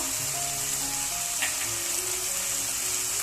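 Chili powder, spices and tomato sautéing in a pan for chicken vermicelli biryani, a continuous dense sizzle with faint stirring scrapes and no talk.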